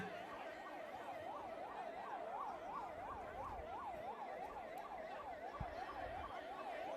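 A wailing ambulance siren cycles rapidly up and down, steady and somewhat distant beneath low background rumble, at a crowded political election campaign rally in Kadayanallur.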